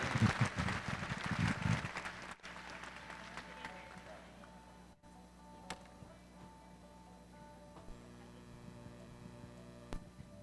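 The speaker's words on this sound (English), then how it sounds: "Give our ladies a nice round of applause" Audience applause for a ladies team class at a horse show, a dense burst of clapping for about two seconds that fades quickly, leaving a steady electrical hum over the arena PA.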